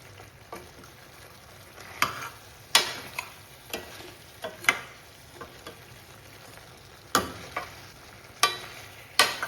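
A spoon or spatula stirs masala through cauliflower curry in a pan, with a soft sizzle underneath and sharp scraping knocks landing irregularly every second or so, close and alone.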